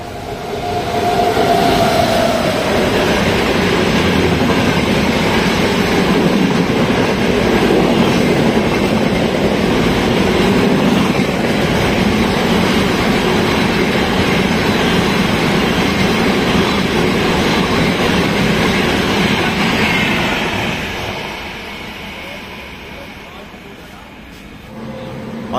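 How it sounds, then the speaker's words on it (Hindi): Mahamana Express passenger train running at high speed, a loud steady rumble and rail roar with wheel clatter that lasts throughout, easing slightly near the end. "महामना एक्सप्रेस बिल्कुल एकदम शांति के साथ रफ्तार में।"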